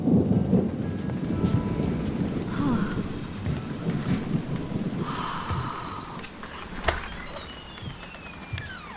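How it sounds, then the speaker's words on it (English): Heavy rain pours through a night thunderstorm, keeping up a steady dense hiss while rolls of thunder rumble now and then, with a sharp crack near the end and a few faint whistling tones over the downpour. "It's blowing up a storm. Yeah, the rain."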